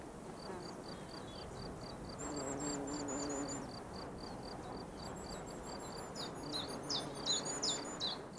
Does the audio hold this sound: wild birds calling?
yes